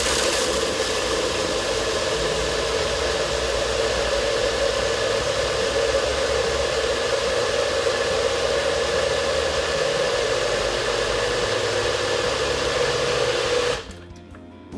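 A NutriBullet blender whirs steadily and loudly, mixing a peanut butter banana protein drink, its motor a constant high whine for about fourteen seconds before cutting off abruptly near the end.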